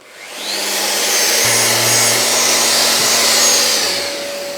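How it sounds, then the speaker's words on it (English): Festool sander working filler off a surface with 180 grit paper, a steady loud whirring drone with a tonal hum that holds for about four seconds before tapering off at the end. "that initial bit was with 180 grit just to get the majority of that filler off"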